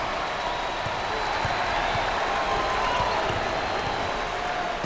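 A basketball arena crowd at the Smith Center applauds and cheers during an ACC tournament game between Florida State and North Carolina, a loud continuous wash of clapping and crowd roar with faint ball bounces and squeaks beneath.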